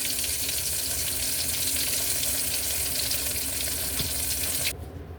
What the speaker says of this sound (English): It's deep frying right now.